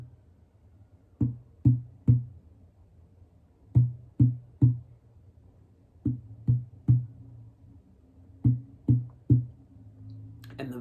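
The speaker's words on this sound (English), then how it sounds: "you're going to hit the bridge of your guitar when you go to play the first note of each chord" Groups of three sharp percussive thumps on a guitar, each with a short ringing low note, repeat in a steady pattern with pauses between groups.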